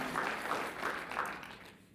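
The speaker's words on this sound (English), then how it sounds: "give a round of applause to you, everybody listening" Applause at a Las Cruces city council meeting, a fairly steady round of clapping from the room that thins and fades out toward the end.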